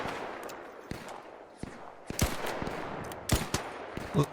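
Rapid bursts of Arc Raiders gunfire crackle in close, uneven volleys during a squad fight, with sharper loud shots punctuating a steady background din.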